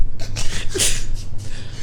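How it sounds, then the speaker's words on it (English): A single, short human sneeze bursts out loud and close, surrounded by breathy noise in an outdoor setting. "I sneeze."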